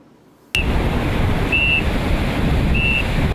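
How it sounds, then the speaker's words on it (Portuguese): A firefighter lifeguard blows a whistle to alert a swimmer on a beach in São Luís during a rescue training drill. Three short, shrill blasts cut through loud, constant wind and surf noise. "O apito foi um alerta para o banhista em situação de risco"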